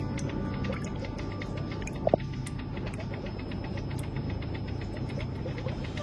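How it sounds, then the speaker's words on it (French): A pool filter pump runs steadily, a constant low mechanical hum with a whirring, watery rush, close and moderately loud, broken once by a brief double clunk partway through; no one speaks. "on peut brancher le filtre, il démarre tout seul."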